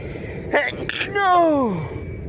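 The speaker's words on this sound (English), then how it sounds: "Oh, see, if you just sneeze like that, you're gross." A single sneeze: a sharp intake breath, then an explosive burst trailing off into a falling, voiced exhale, heard close and alone.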